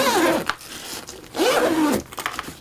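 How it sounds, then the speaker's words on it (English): Two quick zip pulls open a transmitter winter case, each a close, bright rasp lasting about half a second, with a brief rustle of fabric between them. "I just undo the zip"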